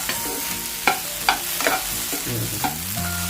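Okra pieces frying in a pan are stirred and scraped with a spatula, giving intermittent clinks and scrapes over a constant close sizzle.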